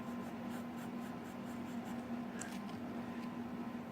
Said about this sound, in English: It writes well, and as with any fountain pen, you do get a tiny bit of variation